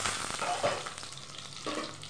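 Onions and spring onions frying in a wok, a soft sizzle with a few brief stirring scrapes, fairly quiet and heard with no talking.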